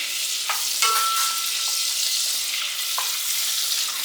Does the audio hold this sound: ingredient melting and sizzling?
yes